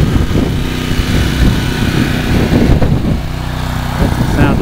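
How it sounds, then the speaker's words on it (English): A portable generator running steadily to keep an inflatable Clif Bar arch inflated at an outdoor bike ride event, a loud continuous engine rumble mixed with wind buffeting and broadband noise. "That's the sound of the generator"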